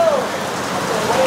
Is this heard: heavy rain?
yes